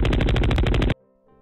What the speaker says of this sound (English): take the machine gun loop and put it in fire sound